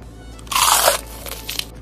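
A single loud crunch as someone bites into a hot, freshly cooked ube turon coated in sesame seeds, a short crackling burst up close followed by quieter chewing sounds, with no talking.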